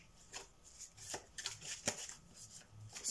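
Lionese Tarotrax tarot cards being shuffled and handled: a run of soft, papery flicks and riffles, quiet and close, repeating irregularly with no voice.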